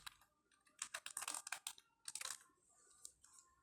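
Computer keyboard typing while text is entered into a flyer design in Photoshop, quick bursts of close, crisp key clicks separated by short pauses.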